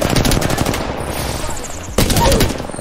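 Rapid automatic gunfire from an Apex Legends firefight, loud and dense, with bursts running throughout and a sharp fresh volley near the end.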